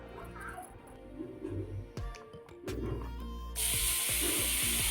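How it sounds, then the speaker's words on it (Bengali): Ash gourd pieces tipped into hot oil for a fish-head ash gourd curry, setting off a loud, steady hissing sizzle that swells toward the end, with some clatter and bubbling underneath. "এই যে তেল আছে এতখানির মধ্যে এই যে চাল কুমড়গুলো ঢেলে দেবে"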